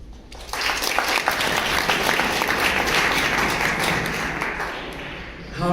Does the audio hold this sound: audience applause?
yes